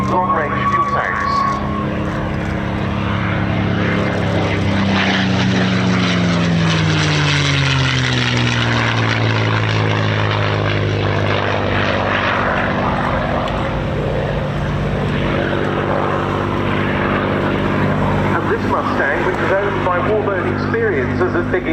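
A WWII propeller fighter, a D model, flying at an air show, its engine a loud continuous drone with a shifting pitch as it passes, while a commentator talks over it throughout.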